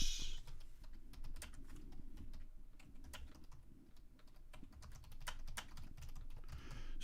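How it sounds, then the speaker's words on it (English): Rapid, uneven clicking of keys on a computer keyboard, close and clear, as bursts of typing with short pauses, with no voices. "Sorry about my typing."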